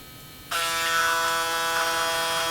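An electric shaver in its cleaning station switches on abruptly after a quiet moment, then holds a loud, steady, high-pitched motor buzz with close mechanical whirring.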